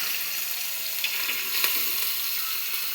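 Food frying in a pan on a low gas flame, giving a steady, even hiss of sizzling oil that stays close and constant with no talk.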